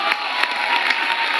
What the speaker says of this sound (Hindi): पूरी भीड़ एकदम पागल हो जा रही है।